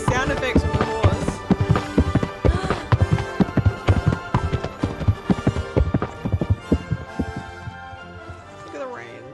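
Horse hooves clip-clopping in the medieval video game Kingdom Come: Deliverance, a steady run of close, sharp thuds under a thick bed of game ambience and music.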